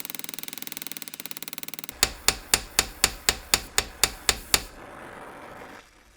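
A hammer strikes metal on an anvil while a Beretta Silver Hawk shotgun part is worked. Light rapid taps give way to about nine loud, evenly spaced ringing blows, then quiet.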